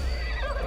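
A horse in the video game Assassin's Creed Valhalla gives a short, loud whinny at close range, lasting under a second.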